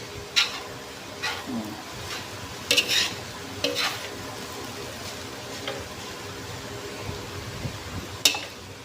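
Fried rice stirred and fried in a pan for breakfast, a low steady sizzle broken by sharp scattered scrapes and clinks of the utensil against the pan, quiet and close.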